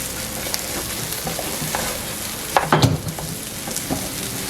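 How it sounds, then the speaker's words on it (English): Rice frying lightly in butter in a pot for yellow rice, a steady nearby sizzle broken by stirring scrapes and a louder clatter of a spoon against the pan midway. "The rice fry a little bit into the butter, just a little bit, lightly."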